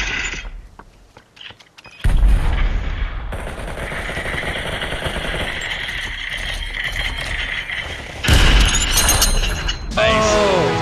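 Gunfire and a grenade blast in the VR battle royale game Population: ONE, with loud bursts of shots and a sharp explosion over a steady din of game noise.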